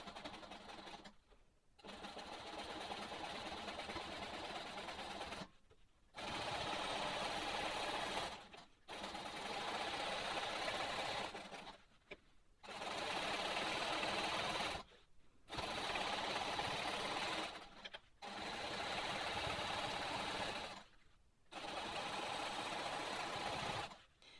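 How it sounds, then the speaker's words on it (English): A sewing machine quilting stitch-in-the-ditch lines on a sawtooth star quilt block, running in steady bursts of a few seconds separated by brief pauses, moderately loud and close, with no talking. "So I'm going to stitch in the ditch to this point out here."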